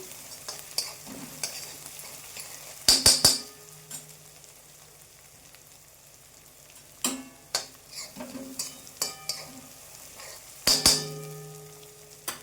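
Kachori filling for wheat flour kachori sautés in a pan with a soft, continuous sizzle, broken by sharp clinks and scrapes of a spoon stirring against the metal.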